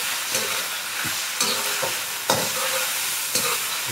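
Chicken with ginger and garlic frying and being stirred in a pan, giving a steady sizzle broken by several sharp scraping strokes of a spatula, close and alone.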